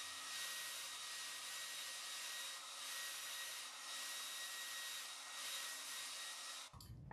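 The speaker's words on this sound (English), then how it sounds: "I'm going to try to just blow dry this a little bit" A handheld hair dryer blows steadily on wet paint coating a DIY garden gazing ball, a continuous close airy whir that holds for several seconds before cutting off abruptly near the end.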